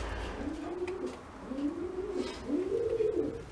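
Racing pigeons of an old line cooing in a loft compartment, three rolling coos in a row, close and clear over a low background hum.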